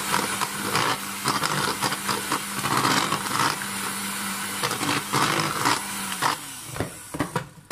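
An electric mixer beating cake batter of eggs and oil into a mayonnaise-like mix, a steady close whirring drone with slight changes in pitch and a few knocks against the bowl near the end.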